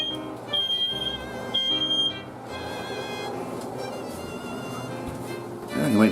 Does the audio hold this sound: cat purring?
no